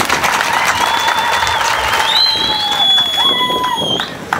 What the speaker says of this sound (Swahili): Tumpigieni makofi mengi sana.